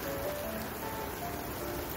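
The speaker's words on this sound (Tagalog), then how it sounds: "Ang ulan malakas." Heavy rain during a rainstorm at a campsite in Benidorm, Spain, a dense, even hiss of falling water close by that stays steady throughout with no voices.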